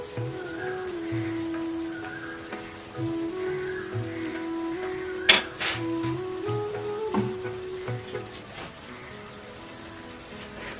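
Ghee sizzles steadily in a hot pan, a faint, continuous crackle with occasional louder pops, set against a soft tonal background.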